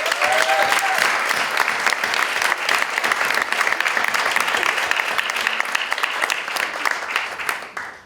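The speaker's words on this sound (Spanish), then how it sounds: "Quiero que aplaudamos de vuelta esta revista," A seated audience applauds at the launch of an education magazine in Spanish. Dense, steady clapping from many people fills the room and stays loud throughout before thinning at the very end.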